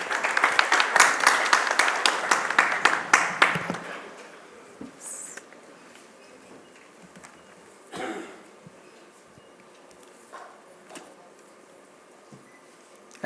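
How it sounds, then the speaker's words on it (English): An audience at the ISUW 2024 conference inauguration applauds a speaker coming to the podium, with a loud, dense burst of clapping that fades over about four seconds, followed by quiet room noise and a few faint knocks. "please help me welcome him to the podium with a big round of applause"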